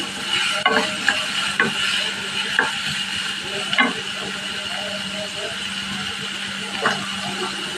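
Onions and five green chillies fry in a pan for a pepper chicken fry, giving a steady, close sizzle broken by occasional clinks and scrapes of a spoon stirring.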